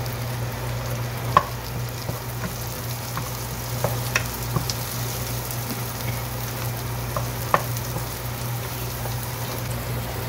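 Garlic, onion and chili fry in a pan with an even sizzle that runs throughout, broken by occasional sharp pops and light clicks.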